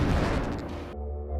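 A film explosion from chest-strapped explosive devices torn off by fleeing men, a loud broadband blast that rumbles and decays into a low sustained roar.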